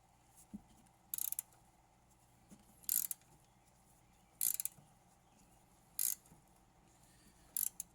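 A ratchet wrench clicks in short, crisp bursts about every one and a half seconds while working on the rear strut of a 2015 Toyota Camry, close and fairly quiet over a faint background hum.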